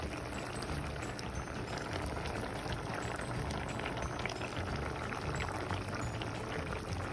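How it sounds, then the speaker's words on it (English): Pressure-cooked oxtail is poured into a saucepan, giving a soft continuous liquid splatter and trickle at low volume with no voices. "Pour in a saucepan."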